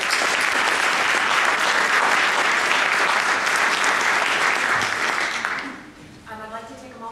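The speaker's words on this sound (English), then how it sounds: "Please join me once more in giving Alan a round of applause." An audience at a panel event on community blight gives sustained, dense applause at close range that fades out near the end, followed by a moment of quieter room sound.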